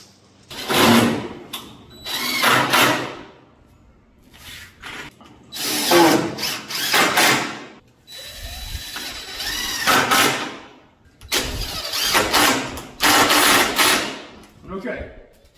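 A power drill drives screws into the wall of a mobile chicken coop under construction, in repeated loud bursts of whirring separated by short pauses, close to the microphone.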